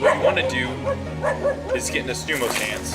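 A dog barks in a deadlift instruction session, several short yips and barks in a quick series close by while a person keeps talking.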